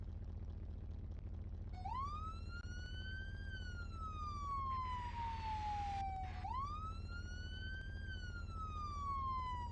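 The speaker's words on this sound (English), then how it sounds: "now is the siren" A police siren wails in long rising and falling sweeps, twice over, steady and moderately loud against a low background hum.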